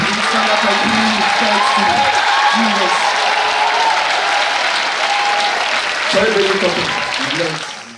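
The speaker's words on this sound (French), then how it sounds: "On se lève pour donner l'acclamation à Jésus." A church congregation applauds and acclaims Jesus with loud, sustained clapping and cheering filling the room, and voices call out over it near the end.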